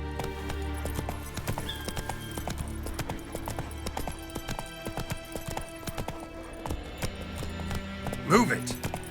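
Roach, a horse in The Witcher 3, gallops with rapid, rhythmic hoofbeats under game music, and a brief whinny rises near the end. A voice speaks over the hooves.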